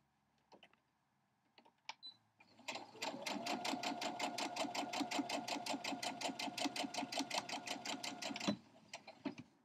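A sewing machine runs a scant quarter-inch seam through quilting fabric for a sawtooth star block, starting with a few short bursts, then stitching steadily in a fast, close, regular rhythm for several seconds before stopping, followed by small handling clicks.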